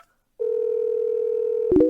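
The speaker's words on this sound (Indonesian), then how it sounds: "Aku akan telepon Wakil Presdir Chen." A telephone dial tone comes on after a brief silence and holds as a loud steady hum, then is broken by a quick dialing tone as a call is placed, with no one talking.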